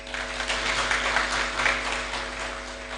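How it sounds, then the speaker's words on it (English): An audience at a South Sudan banking event claps for a speaker, a dense, even patter of many hands sustained for a few seconds over a steady low hum, with no talking. "Let us give him a warm applause,"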